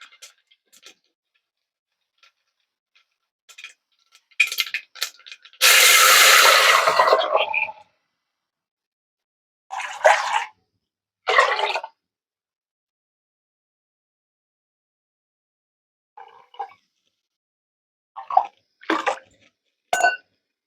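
A tomato, pepper and cumin liquid is poured into a rasam pan in a home kitchen: one clear splashing pour of about two seconds, framed by scattered light clinks and taps in otherwise quiet surroundings.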